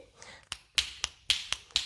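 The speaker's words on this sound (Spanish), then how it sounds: "Mi opción favorita es la de hacer ese mismo braceo, pero con chasquido de dedos" Crisp finger snaps accompanying flamenco rumba arm movements, six sharp, close snaps in a loose rhythm, quiet and isolated with faint breathing between them.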